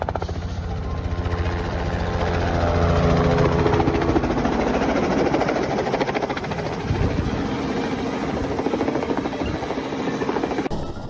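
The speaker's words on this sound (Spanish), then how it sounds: "Es un helicóptero fumigador R-44 Raven." A Robinson R-44 Raven crop-spraying helicopter flying in Kentucky, its rotor thumping and engine droning loud and near, the pitch shifting as it maneuvers low.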